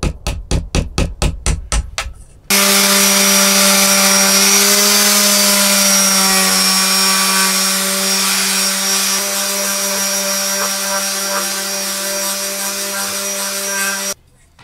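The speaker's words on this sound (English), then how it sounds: "the corners were sawn off, turning it into a hexagon, and the edges were removed using a chisel" Hand tools shaping a wooden sword handle, with a saw cutting the corners to a hexagon and a chisel paring the edges: about eight quick rhythmic strokes at the start, then a loud steady tonal drone fills the rest.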